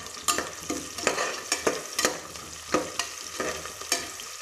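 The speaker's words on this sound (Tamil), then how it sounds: "வெங்காயம் வதங்கட்டும்." Small onions and green chilies sauté in a pan, a steady sizzle broken by regular sharp scrapes and clacks of a spatula stirring roughly every half second, close and fairly loud with no talking.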